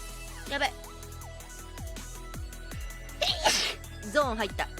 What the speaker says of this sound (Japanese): くしゃみ出そう。